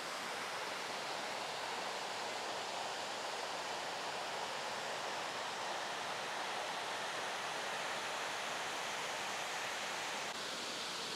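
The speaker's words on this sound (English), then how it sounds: "Check out that waterfall." A waterfall along a Hadrian's Wall hiking trail gives off a continuous, even rush of falling water, a soft, steady hiss heard alone with no voices.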